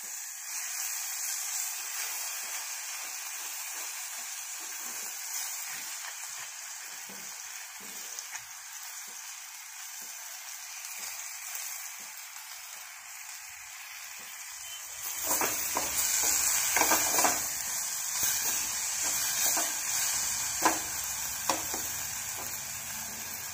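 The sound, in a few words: washed vegetable frying with browned onion in a pan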